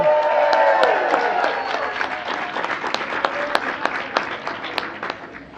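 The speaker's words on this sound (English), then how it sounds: "Please join me in another round of applause for our talented musicians" Guests at a White House Cinco de Mayo reception applaud musicians from Los Angeles, a full burst of clapping that thins into scattered individual claps as it winds down, with some musical tones lingering early on.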